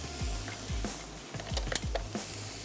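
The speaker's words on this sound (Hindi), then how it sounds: "तो हम इसमें जो फ़िश है उसके पीसेस ऐड करना शुरू कर देते हैं, 1 से 2, और ग्रेजुअली आप इसको फ्राई करते जाएं" Fish pieces frying in hot oil in a pan, a low steady sizzle close by with several soft thuds and clinks as pieces are dropped in, quiet and free of talk.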